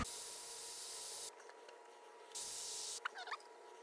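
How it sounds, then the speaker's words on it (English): Two bursts of hissing aerosol spray paint aimed at an old fishing lure, each lasting about a second, separated by quiet pauses, with faint soft rubbing or handling sounds near the end. "I'm going to dry each eye and then spray it a couple times to get it a little brighter"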